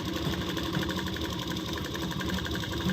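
A sewing machine stitches a salwar, a steady rapid mechanical whir with a fast rhythmic ticking, close and continuous, with no voices.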